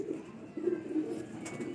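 Soft, low pigeon cooing rises and falls a few times, with a faint background hiss and no talking.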